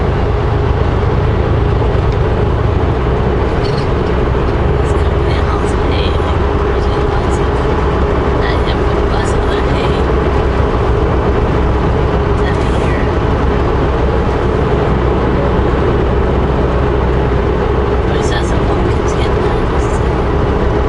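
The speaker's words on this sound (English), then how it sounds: "Here's Jake brakes kicking in there. Pretty loud Jake brakes." Heavy truck on I-90 through the Columbia Gorge with its Jake brake engaged, a loud continuous low rumble of engine braking heard from inside the cab, steady throughout with road noise and no break.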